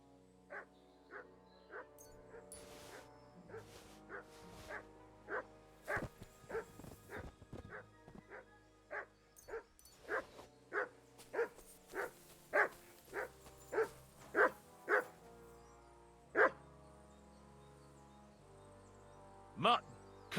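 A dog barks in Kingdom Come: Deliverance II, a medieval role-playing game: a steady string of about twenty sharp barks, close and clear, coming faster and louder toward the middle before thinning to a few spaced barks near the end.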